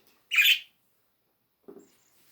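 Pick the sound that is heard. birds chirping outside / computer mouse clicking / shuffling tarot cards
birds chirping outside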